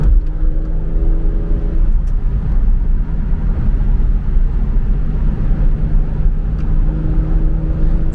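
A Porsche 996 Carrera engine revs hard and continuously, a loud close drone that holds steady throughout with no talking.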